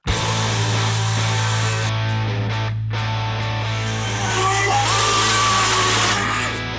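A loud, steady DeWalt 60V electric chainsaw drones continuously, its motor whine holding even as it cuts through small tree limbs, with brief dips in pitch and a rising buzz near the end.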